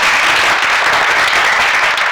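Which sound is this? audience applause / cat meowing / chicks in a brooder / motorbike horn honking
audience applause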